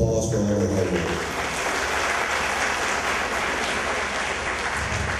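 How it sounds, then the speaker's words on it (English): An audience at a women attorneys' fashion show gives a full, sustained round of applause. The dense clapping holds steady and fairly close throughout, with a short trace of a voice at the very start. "let's give them a round of applause for all their hard work"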